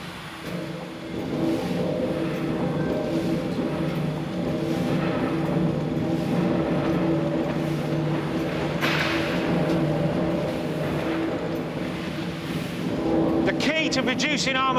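A huge 12,000-horsepower steel rolling mill engine drones steadily and loudly throughout, a deep continuous mechanical rumble with a rhythmic pulse, ending with a brief rise in noise.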